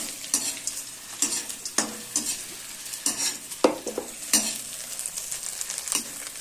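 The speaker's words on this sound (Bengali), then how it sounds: "হয়ে গেল আমার পাঁপড় ভাজা।" Papad frying in hot oil gives a steady close sizzle, broken by repeated sharp scrapes and stirring knocks of a utensil against the pan, loud and unaccompanied by speech.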